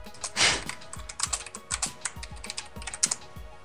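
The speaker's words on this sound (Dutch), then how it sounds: "Wat typen" Rapid typing on a computer keyboard during a Minecraft Hunger Games session, with irregular bursts of close, crisp key clicks, one heavier thump near the start, heard alone without talk.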